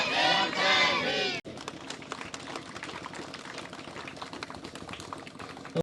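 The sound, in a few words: crowd applause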